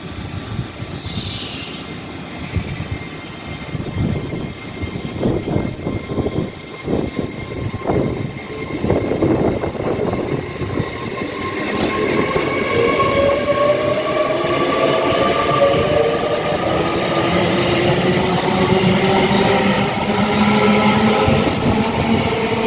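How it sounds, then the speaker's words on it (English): An Avanti West Coast Class 807 train pulls out of Rugby station, first rumbling and clattering, then building into a loud, rising electric whine as it accelerates away, with no voices. "About to depart now. 8 minutes late will be the late running 1612 Avanti West Coast service to Birmingham New Street"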